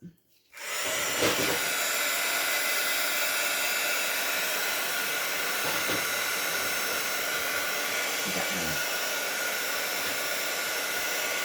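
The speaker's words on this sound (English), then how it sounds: "I'm going to come in with my heat tool and just dry it a little bit." A heat tool used to dry wet stamped ink on a card blows with a loud, steady whooshing roar that starts abruptly after a moment of quiet and runs on without a break, with faint handling knocks underneath.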